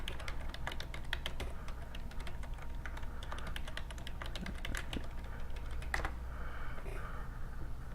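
Rapid, irregular clicking of a computer keyboard as a password is typed on a Windows XP machine, close and steady for most of the stretch, with a short pause before a final few keystrokes.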